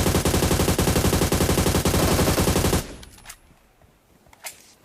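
Rapid automatic gunfire in the PUBG Mobile game rattles loudly and continuously for nearly three seconds, then cuts out, leaving a couple of faint distant shots.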